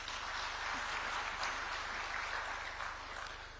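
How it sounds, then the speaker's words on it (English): Conference audience at a mining investment expo in Nairobi applauding: a faint, steady wash of many hands clapping in a large hall over a low electrical hum, fading slightly at the close. "Now, Kenya deserves a round of applause there."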